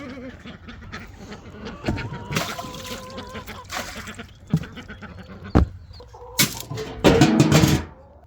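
A backyard flock of chickens clucks and calls amid other farm-animal bleats, the varied calls coming close and fairly loud, with a noisy burst of overlapping cries toward the end.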